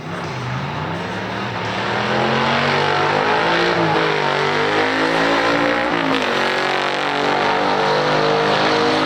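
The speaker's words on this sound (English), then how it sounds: "In this time trial, we have the Corvette taking on a 1970 Dodge Challenger with a 440 4-barrel V8 rated 375 horsepower." A 1970 Dodge Challenger with a 440 four-barrel V8, 4-speed manual and 410 gears drag races a big-block 1965 Corvette: loud, steady engine roar building after a couple of seconds and holding at full throttle as the cars run the quarter mile.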